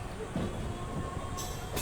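A Secunderabad–Repalle Express passenger train rumbling steadily along the track just after departing Secunderabad, a continuous low roar with a brief rise near the end.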